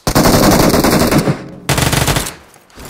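Rapid, loud bursts of shotgun fire in the mobile battle royale game BGMI, a dense volley cutting off sharply, then a second shorter burst fading into quiet.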